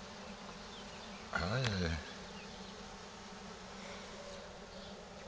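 Honeybees from a small swarm buzz steadily during a hive transfer from a Dadant nucleus box to a 20-frame Layens hive. One bee flies close by and briefly gets loud, and a person says a few words.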